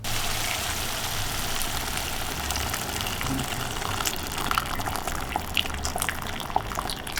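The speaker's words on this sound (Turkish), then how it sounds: "yani tamamen etin üstünü örtecek kadar kaynamış su ilave edeceğim" Boiling water poured over meat in a cooking pot, a steady, fairly loud liquid gush and splash running throughout with no talk.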